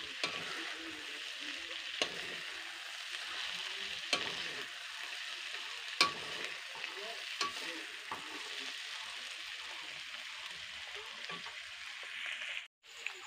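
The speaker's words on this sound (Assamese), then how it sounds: "এতিয়া মই ৰান্ধি আছোঁ। ভাতকেৰেলা, আলু আৰু পটল ভাজিটো" Sliced bitter gourd, potato and pointed gourd fry in a home kitchen pan with a steady close sizzle. Sharp clicks and stirring scrapes come at intervals, and no one speaks.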